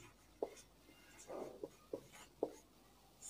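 Chalk taps and scrapes on a board as a proof is written out in a classroom math lesson, giving a few quiet, sharp strokes and clicks spaced irregularly over a low background hum.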